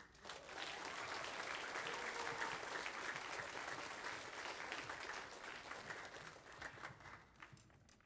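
An audience claps steadily at a spring school band concert, a continuous, even wash of applause held for the whole stretch, fairly soft and distant, easing slightly near the end.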